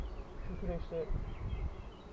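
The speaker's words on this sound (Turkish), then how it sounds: "Arılar hızlıca geri geliyorlar." Bees flying back to their hive in the Black Sea highlands of Giresun, a steady low buzzing hum throughout, close by, with someone talking over it.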